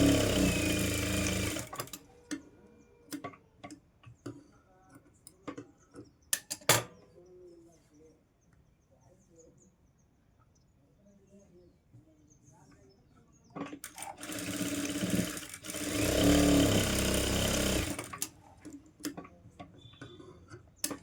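Bursts of a sewing machine stitching a four-tuck blouse, loud rapid runs at the start and again near the end, separated by quieter stretches of faint handling ticks and clicks.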